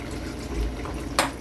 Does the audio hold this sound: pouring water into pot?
yes